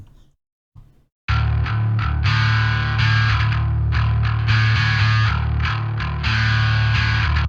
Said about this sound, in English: So that's what the bass sounds like.